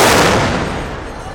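A gunpowder-filled bomb fired during Dasara elephant training goes off as a single loud, close blast with a short rolling decay.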